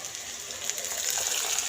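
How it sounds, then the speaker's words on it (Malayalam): Salt and turmeric water poured into a pan of jackfruit, a steady close gushing splash of liquid that stays even and fairly loud for a short stretch. "നമുക്കിതിലേക്ക് നമ്മൾ കലക്കി വെച്ചേക്കുന്ന ഉപ്പ് മഞ്ഞൾപ്പൊടി ഇട്ട് ഒഴിച്ചെടുക്കാം"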